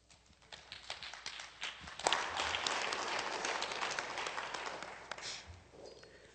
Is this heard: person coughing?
no